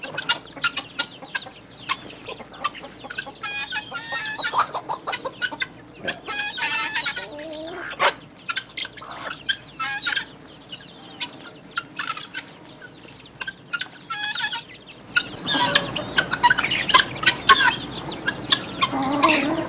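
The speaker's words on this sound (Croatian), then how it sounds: "ova kokica što ima sada najmanje piliće" A mother hen clucks among her small chicks, repeated close clucks over faint peeping, then a louder burst of fowl calls near the end.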